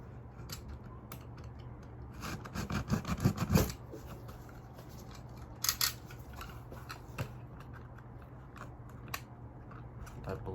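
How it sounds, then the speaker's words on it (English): A blade cutting open the cardboard box of a 1/72 scale model aircraft kit, with quiet close scraping and slicing strokes, a denser burst of cutting and rustling partway through, then sparse small taps. "So first of all, just cut the box."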